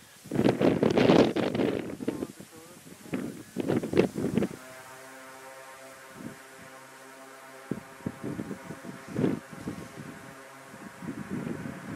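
Wind gusting against the microphone on a boat drifting off Kodiak Island, with heavy buffeting bursts early and again mid-clip, settling into a steady low hum with intermittent rustles.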